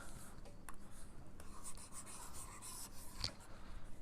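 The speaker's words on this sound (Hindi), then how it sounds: "यहाँ पर लिखेंगे" A pen scratches out a line-slope equation for a bisector in a vector math lesson. The soft, continuous scribbling is steady and quiet, with a couple of small taps, and no speech.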